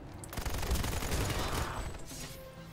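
Sustained rapid automatic fire from the XMG-100 machine gun of the NSO faction in the video game PlanetSide 2, a dense rattling burst lasting most of the moment and tapering off near the end.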